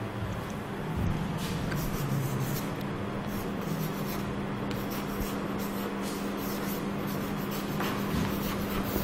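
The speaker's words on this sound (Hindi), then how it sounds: "मैं इसको इधर लिख देता हूं" Steady scratching and rubbing of writing on a board in a physics classroom lecture on buoyancy, continuous and fairly faint, with no voice over it.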